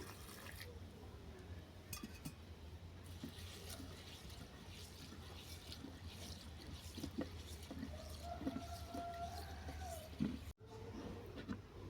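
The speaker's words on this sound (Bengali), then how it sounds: "সরষেটা জল পাল্টে পাল্টে ধুয়ে নেব" Mustard seeds are washed in a bowl with the water changed, giving quiet intermittent drips, trickles and sloshing with small bumps of the bowl, close and low in level under a faint background hum.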